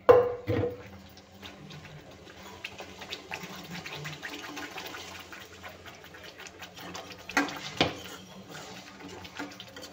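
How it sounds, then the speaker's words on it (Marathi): Water is poured into a pan of simmering soya chunk gravy, a short splashing gush at the start followed by quieter bubbling and clinking, with a second brief splash later, all close and with no talking. "आता छान पाणी मी घालणार आहे आणखी."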